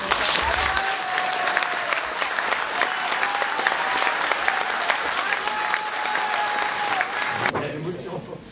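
A room full of people at a town council meeting claps steadily for several seconds after a mayor's election, dense and sustained, with a voice speaking over it before the applause cuts off.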